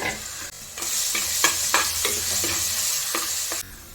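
Crushed ginger, garlic and green chili sautéing in a hot pan for a kalava fish-head curry, with a steady close sizzle broken by repeated scrapes and stirs of a spoon against the pan.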